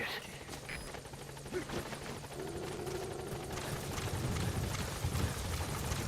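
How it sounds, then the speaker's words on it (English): A helicopter in the video game Metal Gear Solid V: The Phantom Pain thrums in the background, its low rotor rumble building gradually and growing louder toward the end. "Did the helicopter just leave?"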